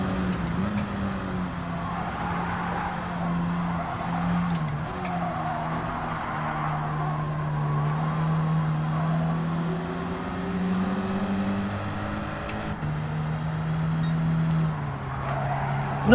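Race car in a video game lapping Suzuka: a loud, steady engine drone with pitch rising and falling through gear changes and corners, heard close throughout, with no clear skid.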